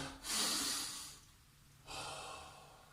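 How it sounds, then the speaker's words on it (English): Two long, loud breaths during a children's home workout, each a broad airy rush, the first a strong inhale-exhale and the second starting after a short pause, close to the mic with no talking. "Okay, so those 3 big breaths now."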